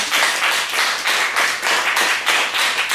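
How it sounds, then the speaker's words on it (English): Students in a classroom clap together in a loud, rhythmic pulse, roughly two to three beats per second, with each swell of hands rising and falling evenly and no talking over it. "Give yourself a round of applause."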